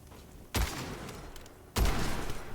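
Two sharp gunshot bursts from stun bullets fired in the first-person shooter Witchfire, each a loud attack trailing into a noisy decay, about a second apart.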